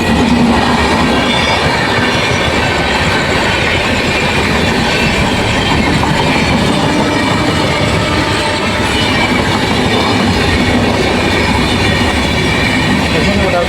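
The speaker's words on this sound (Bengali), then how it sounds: "আর ট্রেনটা কি স্পিডে আসছে" A train rushes past at speed on a railway track, a loud, continuous roar of wheels and clattering cars that fills the whole stretch without a break.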